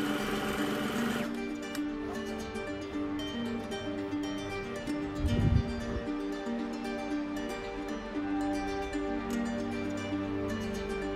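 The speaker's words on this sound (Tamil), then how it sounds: "இப்போ நான் திருப்பிட்டு இதுக்கு மேல ஒரு டாப் ஸ்டிச் ஒன்று தைக்க போறேன்." A sewing machine runs steadily while top stitching a blouse, a fast even mechanical whir close up with a brief louder clunk midway and no talking.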